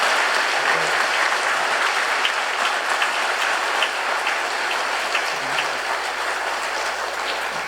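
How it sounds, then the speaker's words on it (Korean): Church congregation applauding during a Sunday worship service, a steady, dense wash of many hands clapping that carries on evenly throughout at moderate loudness, with no talking over it. "아주 특별히 우리 박수를 한번 감사 표시합시다."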